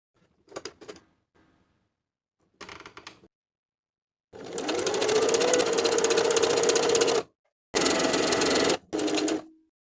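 Several short bursts from a sewing machine basting a knit neckband onto a tank top at a quarter-inch seam allowance: brief starts and stops at first, then a long steady run and two shorter runs, close and loud.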